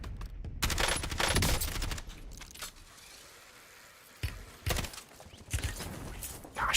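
Call of Duty gameplay gunfire: several sharp bursts of shots, fairly close, at the start and again near the end, with a quieter stretch of background ambience between them and no talking.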